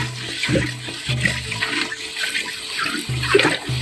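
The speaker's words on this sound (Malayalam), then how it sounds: "ഇതിലേക്ക് നമുക്ക് ആവശ്യമായ വെള്ളം ഒഴിച്ചു കൊടുക്കണം." Water poured into a container, heard as close splashing and gurgling in several uneven bursts separated by short pauses, moderately loud, with no voices.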